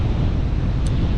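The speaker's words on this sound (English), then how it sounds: "It's still windy." Strong wind blusters across a microphone at an autumn beach campsite, a dense low rumble with surf-like roar filling the whole moment, loud and close, with no voices.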